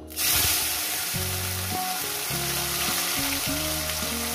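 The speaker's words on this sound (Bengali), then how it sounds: "এবার আমি মাছগুলো এখানে ভেজে নেব।" Mourala fish sizzling in hot oil, a loud continuous crackle and hiss with a steady broad wash and no voices, holding throughout.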